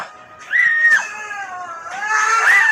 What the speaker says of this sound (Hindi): उस अंधेरे में मुकुल और सुचिरा की भी रोने और चीखने की आवाजें आई